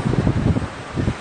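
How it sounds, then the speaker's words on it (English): Strong wind buffets the microphone on a black sand beach in Hawaii, a loud, gusty rumble that swells and dips throughout. "I know it's really windy."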